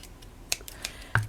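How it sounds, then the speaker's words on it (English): A few crisp snips of scissors cutting, three or four short clicks spaced irregularly, close and quiet. "what I'm going to do is I just cut around it"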